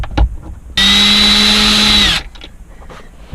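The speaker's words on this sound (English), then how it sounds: "if you have a drill, it makes life a whole lot easier" A power drill on a Chevrolet HHR backs out the antenna base screw: one steady, loud whine of about a second and a half, starting and stopping abruptly, with quiet handling noises before and after.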